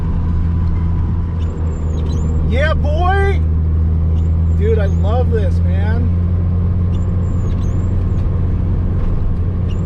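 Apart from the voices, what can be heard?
Nissan S13 240 car driving up through a mountain pass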